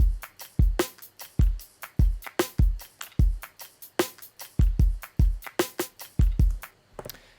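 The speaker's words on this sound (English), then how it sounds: "my intro drums sound like this" Soft, rounded future bass intro drums with gentle kicks and light hits in a steady groove, no voices, the beat dropping away at the very end.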